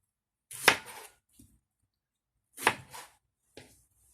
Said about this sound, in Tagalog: Hatiin lang natin kasi yung mga sibuyas dito malaki.